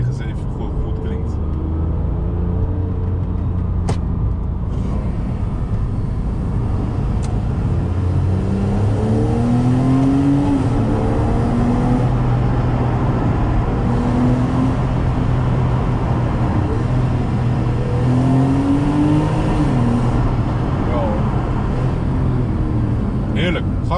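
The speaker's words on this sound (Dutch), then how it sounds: "Kunnen jullie even horen wat ik bedoel met dat de 997 goed klinkt?" A Porsche 911 of the 997 generation driven through a tunnel, its engine revving up and down in repeated rising sweeps, loud and echoing, with a steady roar underneath and no talk over it.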